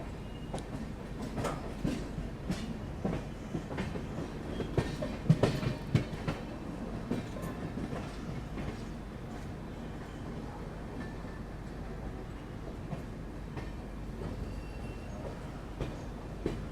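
The Kashi Vishwanath Express runs from Delhi to Lucknow, heard from inside a 3AC coach: a continuous rumbling roll with rhythmic clickety-clack of wheels over rail joints and occasional louder knocks.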